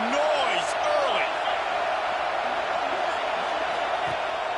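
A stadium crowd roars at a USC college football game, a dense, sustained wash of cheering and shouting that stays loud throughout with a few whoops rising above it.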